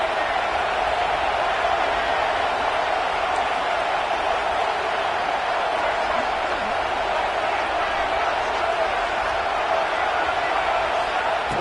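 A football stadium crowd roars steadily on a third down, a loud continuous wash of cheering at some distance, with no clear breaks.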